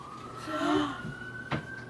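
A police siren wails faintly in the background as a thin, drawn-out tone behind household noise, with a brief thump partway through.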